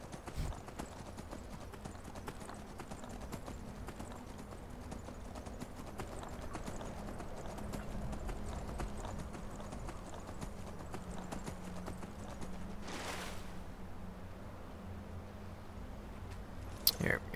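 Shadowmere, a horse in the video game Skyrim, gallops with steady clip-clopping hooves for most of the stretch, with a whinny or whoosh near the end and a faint voice underneath.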